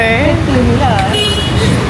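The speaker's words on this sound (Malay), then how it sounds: "Korang tahu ni hon-hon sekarang" Car horns toot in dense night-time Jakarta traffic, with a few short honks rising over a constant loud rumble of engines and road noise.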